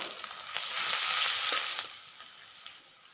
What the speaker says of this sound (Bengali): আগে জিরা দিলাম গোটা জিরা তেজপাতা দিয়েছি দুটো রসুন থেতো করে নিয়েছি সেটা দিয়ে দেবো